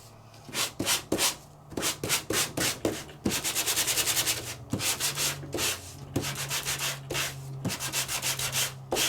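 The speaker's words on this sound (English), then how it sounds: "I'm going to sand all the way around so you can see that it embossed everything except for that circle." Embossed paper from an embossing folder is sanded in brisk repeated strokes, a close rhythmic scratchy rubbing that speeds into a fast run of short passes and then settles back into a steadier back-and-forth.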